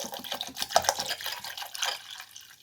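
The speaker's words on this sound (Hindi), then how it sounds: "2 ग्लास के करीब पानी।" Roughly two glasses of water poured into a spiced chaat masala mixture with ginger powder, salt and roasted cumin, a steady splashing pour lasting about two seconds before tapering off.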